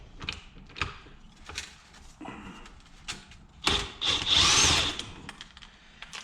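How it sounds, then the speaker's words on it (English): A DeWalt 20-volt impact driver works on the flywheel bolt of a YFZ450 engine. Short mechanical bursts and clatter build to a loud, sustained hammering rattle near the end. "impact driver to get the flywheel off"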